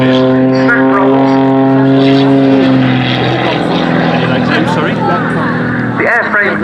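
A highly modified Pitts Special aerobatic propeller biplane, with modified airframe and engine, performs a knife-edge climb and snap rolls at the Cosford airshow. Its loud, steady droning engine note shifts pitch as it passes, under an announcer's commentary.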